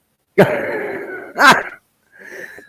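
A couple of close coughs from one person, a harsh burst followed by a second shorter cough, then a softer throaty sound after a brief pause.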